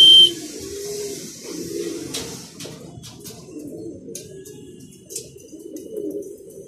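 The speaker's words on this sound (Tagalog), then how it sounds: "Sakto-sakto pag intro natin may dumating ng mga ibon." Racing pigeons arriving coo in low, soft, repeated murmurs over a quiet outdoor background, with a few faint flutters and clicks.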